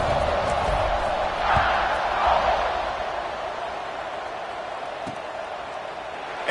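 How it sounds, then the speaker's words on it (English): A stadium crowd buzzes in the College Football 26 video game after a score, a steady roar of many voices that swells briefly and then settles. "this crowd is buzzing after that last score"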